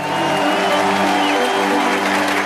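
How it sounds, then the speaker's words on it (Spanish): Steady crowd applause for a group of chemo-ward friends, a continuous, even patter of many hands clapping at moderate loudness throughout, with a faint tonal hum underneath. "Un aplauso para mi amigo Diego, para Julia y por Zoe."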